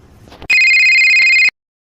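An electronic telephone ring sounds as a call is placed. One loud, bright, sustained tone lasts about a second, starts and stops abruptly, and follows a brief faint rustle.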